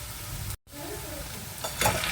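A spoon scrapes and stirs through a thick potato mixture with ground roasted spices in a pan, for vegetable chops, with a soft sizzle underneath and a brief pause partway through.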